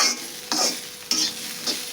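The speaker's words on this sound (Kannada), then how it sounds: "ಈಗ ನೋಡ್ರಿ, ಇವ ಚೌಳಿಕಾಯಿ ಹುರಿದಾವ" Cluster beans are stir-fried with spicy masala in a hot pan, a steady sizzle broken by four brisk scraping stirs of the spatula at roughly even intervals.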